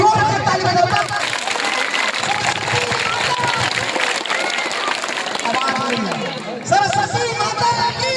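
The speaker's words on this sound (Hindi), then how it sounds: "एक बार जोर से ताली बजाओ" An audience at a Maithili stage play claps loudly in a dense, sustained wash of applause, mixed with crowd noise and voices, and tapering near the end.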